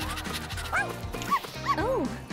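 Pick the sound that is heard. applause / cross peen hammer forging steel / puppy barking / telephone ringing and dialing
puppy barking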